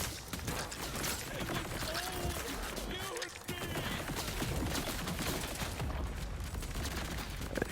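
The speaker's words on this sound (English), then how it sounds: "we're gonna use my favorite gun in the game," The Dark Beast gun fires rapid continuous bursts in a Borderlands-style boss fight, dense crackling gunfire and effects sounding almost nonstop under a player's voice.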